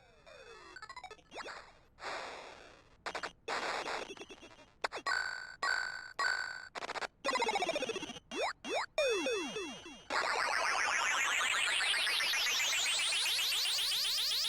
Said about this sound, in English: these old video game arcade sounds drowned in Redux